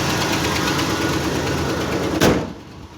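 A 1976 Ford F150 pickup engine idling rough, a steady close rumble with a slightly uneven beat, then a sharp clunk near the end as the sound drops away.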